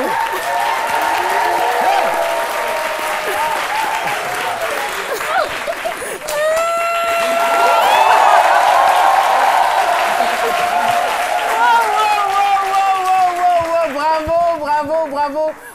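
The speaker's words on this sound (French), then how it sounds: "On applaudit très fort à Espérance Kouadio et Caroline Adjoa Kouadi" Studio audience applauding on a French TV lunchtime show, with sustained clapping and cheering throughout and voices singing and speaking over it.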